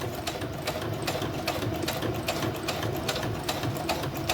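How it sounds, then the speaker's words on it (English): A sewing machine with a heavy-duty sharp needle stitching through many stacked layers of paper for junk journal folios, a steady close mechanical whir with a fast regular clatter of the needle throughout. "When you're trying to figure out how to sew through so many layers."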